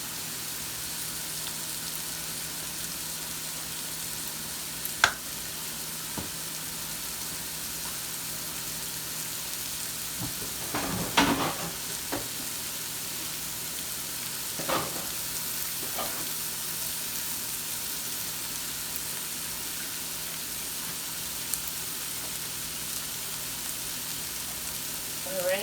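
A steak cooks in a pan, giving a steady low sizzle and frying hiss throughout, with a few brief louder crackles and utensil scrapes scattered through the middle.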